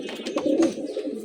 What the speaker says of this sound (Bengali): এক পেয়ার হিমালয়ানের কবুতর, খুবই ভালো মানের